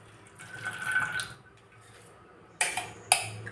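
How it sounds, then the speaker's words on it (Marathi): Water is poured off homemade butter into a bowl in a home kitchen, a soft trickling pour followed by a pause and then two sharp clinks of the vessel, faint and close. "त्याचं सगळं पाणी ह्या वाट्यामध्ये काढून घेत आहे"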